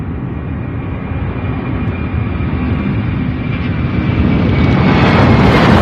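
A UPS Boeing 767 jet taxiing at Louisville International Airport gives a loud, continuous broadband engine roar that swells gradually as the aircraft moves, with no talk.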